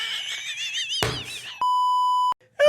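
A censor beep covers a name on a podcast: one flat, steady electronic tone about three-quarters of a second long, set between bursts of talking.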